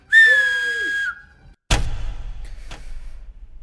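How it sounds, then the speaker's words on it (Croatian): A single loud, sustained whistle blast blown close by as a signal, cut off abruptly and followed by a sharp knock and a short stretch of rustling. "Reagiraj na moj zvižduk."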